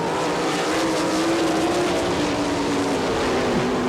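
410 sprint cars race on the dirt track at Attica, their engines roaring loud and continuous as a pack with a slowly shifting pitch, heard from close by and without audible talk.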